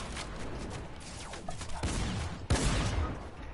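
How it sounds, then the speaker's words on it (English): Gunfire in Fortnite while shooting down an enemy, a couple of distant sharp shots punctuating a low game ambience, moderately faint with abrupt onsets near the end. "I'm shooting him down."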